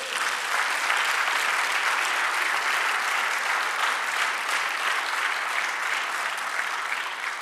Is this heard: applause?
yes